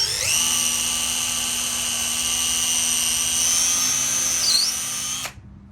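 A power drill fitted with a new 1/8 inch bit pre-drills a wooden rug tufting frame, giving a steady, loud, high whine for about five seconds with a brief pitch dip near the end before stopping abruptly.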